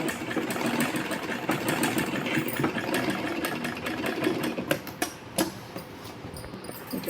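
A sewing machine stitches a long skirt in a steady, fast mechanical whir, then slows and stops with a few clicks as the seam is reversed, close and continuous without voices.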